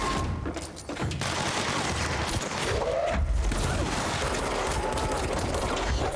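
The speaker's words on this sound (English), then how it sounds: "Just standing in his minigun fire" Sustained rapid minigun fire from an enemy in the video game Control, a dense continuous roar of gunfire holding steady throughout, loud and close, with no speech over it.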